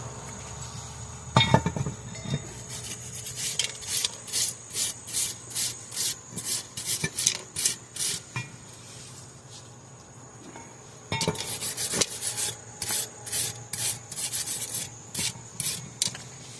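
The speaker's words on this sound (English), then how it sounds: "I'm gonna clean with the white brush" A white brush scrubs brake caliper hardware on a 2016 Hyundai Tucson, making brisk, rhythmic back-and-forth scratching strokes in two bursts with a short pause and a couple of knocks between.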